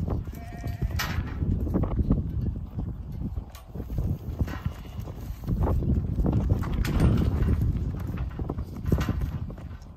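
Lambs being herded and drenched in a flock of over five hundred, with scattered bleats and a busy patter of hooves shuffling nearby, rising and falling throughout.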